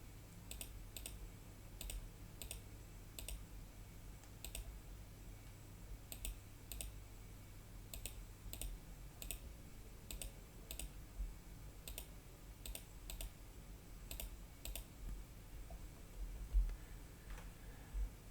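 Sharp, close computer mouse clicks repeat at uneven intervals over a quiet low room hum while sample points are picked in image processing software.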